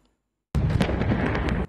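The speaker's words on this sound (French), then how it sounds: "21 coups de canon pour saluer la mémoire du maréchal Idriss Déby" A single cannon shot from a 21-gun salute honoring Marshal Idriss Déby, a sudden loud blast after half a second of silence that rolls on as a heavy, sustained rumble.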